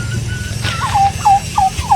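A turkey gobbles in a rapid series of bursts, four or five descending calls, fairly close and loud, with steady low background noise and no talking.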